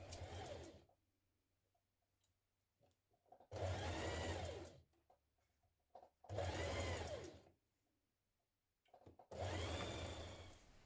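A sewing machine stitches jersey fabric while a T-shirt is being sewn, running in three loud close bursts separated by quiet pauses, with no speech.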